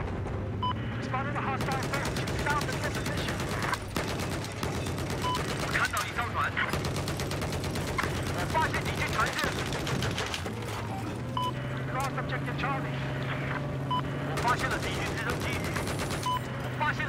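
Bursts of gunfire and fusillades in Battlefield 4 naval combat, crackling loudly and repeatedly with mechanical clatter, while players talk over the shooting.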